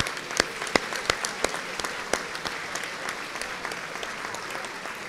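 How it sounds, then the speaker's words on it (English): An audience at a bar association annual meeting applauds, a burst of close individual claps over a steady wash of clapping that gradually thins and softens. "Would you please give these folks a round of applause?"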